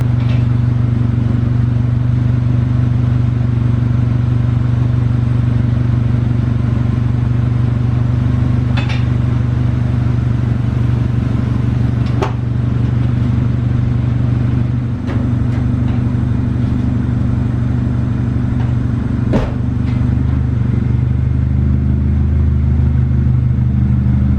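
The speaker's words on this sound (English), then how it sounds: "I'm gonna go ahead and set it down and try to take it for an actual test drive now" A Honda CR-V on a test drive with a suspect transmission and the air conditioning running gives a steady, loud low engine drone inside the cabin, with a few sharp clicks and no talking.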